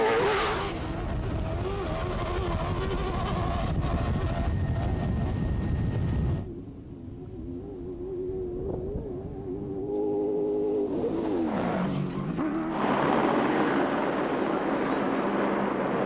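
Camera helicopter landing at the finish zone of a rally, its rotor and engine roar loud and steady at first, then briefly dropping away before surging back with a rising whine.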